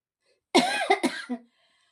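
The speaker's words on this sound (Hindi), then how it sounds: "बहुत ज्यादा खांसी हो गई है" A short burst of harsh, wet coughing, two or three hacks in quick succession, close and fairly loud against silence.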